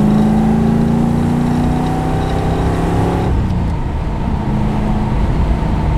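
A 1982 Ford Fairmont XE ESP with a 5.8L engine cruising, its loud, steady low drone droning on, then easing off and roughening partway through, with no one talking.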